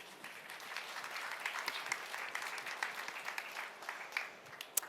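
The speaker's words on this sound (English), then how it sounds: "Please give them a round of applause as well." A seated audience at an energy forum session on CCS-enabled hydrogen claps for an incoming speaker, a steady even patter of applause at moderate distance with no talk.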